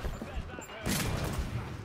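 A bomb-launching gun fires in the video game The Order: 1886, a sudden burst that erupts partway through after a quieter stretch, followed by rumbling blasts.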